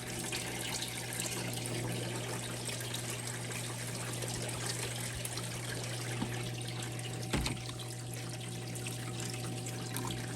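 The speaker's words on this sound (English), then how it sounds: "All right, so now it's filling, so go ahead and add the cleaner." A Manitowoc ice machine fills with water, making a steady, continuous trickling rush under a low mechanical hum, with one brief knock midway; no talking.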